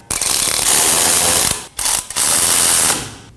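A hand ratchet snugs down the front hub assembly bolts on a 2020s Toyota Corolla, loud and close: rapid continuous clicking in two bursts split by a short pause, then fading out.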